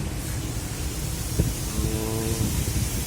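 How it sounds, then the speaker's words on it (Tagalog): Steady broadband hiss of rain fills the scene, with a brief thump and a faint passing engine hum partway through. "tuloy-tuloy yung ulan pero wala namang hangin"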